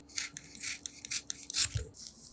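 Scissors snip through cooled cooked eggplant in quick succession, a close run of crisp, slightly wet cuts with short rasping edges, one slicing after another at a brisk, uneven pace.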